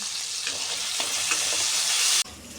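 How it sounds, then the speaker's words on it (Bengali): Shrimp frying in hot oil seasoned with salt and turmeric in a kadai, a bright, steady sizzle with faint stirring scrapes that cuts off abruptly near the end. "ওই তেলের মধ্যেই আমরা চিংড়ি মাছগুলোকে দিয়ে নেব এবং চিংড়ি মাছগুলোকে আমরা হালকা করে ভেজে নেব"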